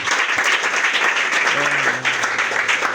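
A church congregation at a French-language worship service breaks into applause, a broad steady wash of clapping filling the room, with a voice speaking over it partway through.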